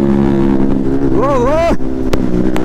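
A vehicle's exhaust drones loudly while driving, with a steady engine hum and a rising and falling rev in the middle, under wind noise close to the microphone.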